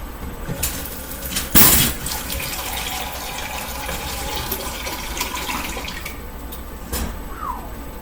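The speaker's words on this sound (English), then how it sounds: "I need a cup of water." Tap water running to fill a cup for a potato soup dry mix, a steady close rush of flowing water with a brief louder clatter near the start, no speech.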